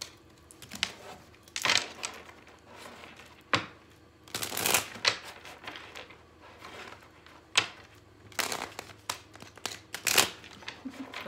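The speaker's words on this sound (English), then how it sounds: "That was a bad shuffle." Cards are riffled and shuffled in several quick bursts, close and crisp, separated by short pauses and light handling sounds.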